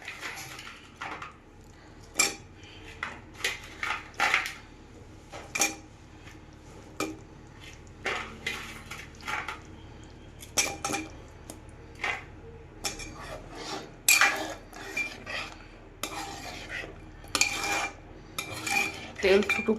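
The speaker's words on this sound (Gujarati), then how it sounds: "તો પનીર બી મિક્સ કરી દઈએ હવે" Paneer being stirred into a pan of curry with a metal spoon, sharp irregular clinks and scrapes against the pan over a quiet background, steady and close, no talking.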